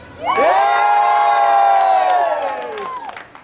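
A theater show audience at EPCOT World Showcase cheers loudly in one sustained shout for about three seconds, then the noise trails off.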